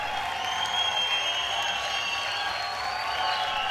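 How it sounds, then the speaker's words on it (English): A crowd at the Tribeca Performing Arts Center applauds and cheers as bodybuilder Victor Martinez makes his entrance, a steady, dense roar of clapping with faint whistles, fairly distant and even in level throughout. "the crowd erupts with appreciation"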